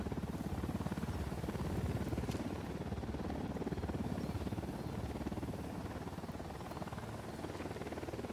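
A helicopter in the video game Ghost Recon Wildlands whirs on steadily at moderate distance, a continuous low rotor drone with no talk over it.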